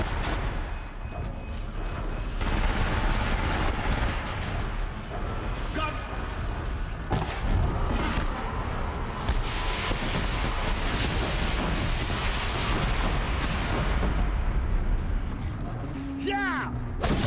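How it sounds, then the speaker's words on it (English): Deathbringer war machine unleashing a rocket volley in Horizon Zero Dawn, a long, continuous barrage of explosions and gunfire-like blasts with rumbling booms, loud and dense throughout, with a player's voice occasionally heard over the chaos. "my shield can survive a single volley of rockets"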